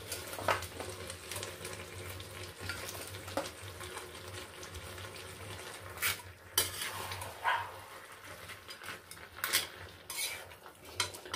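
Fried, broken-up fish heads being gently stirred in a small wok for a Bengali chhyachra dish, with scraping spatula strokes and metallic clinks, close and moderately quiet over a faint background hiss.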